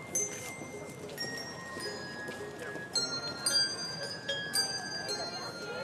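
Outdoor Christmas music played on bells outside the Detroit Historical Museum, with clear ringing tones struck one after another over a murmur of people talking nearby.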